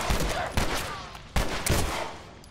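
Gunfire in The Last of Us: Left Behind crackles in dense overlapping bursts of rapid shots against a noisy game backdrop, loud and with no talking.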